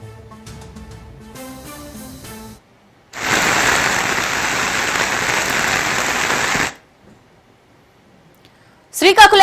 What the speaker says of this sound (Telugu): శ్రీకాకుళం జిల్లాలో భారీ నుంచి అతి భారీ వర్షాలు పడుతున్నాయి.